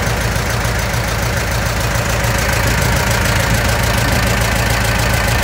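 Shibaura V52F tractor diesel engine idling up close, a steady loud rumbling chug with an even knocking rhythm throughout, no voices.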